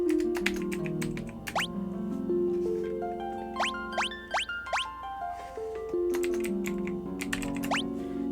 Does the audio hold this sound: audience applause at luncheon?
no